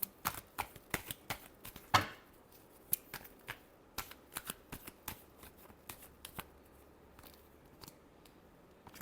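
Tarot cards shuffled by hand in a run of crisp, riffling flicks and taps, fairly close and quiet, with no talking.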